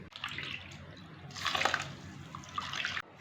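Water poured into a pan of Vembar palm jaggery (karupatti) to dissolve it, a steady close splashing pour that swells midway and cuts off near the end.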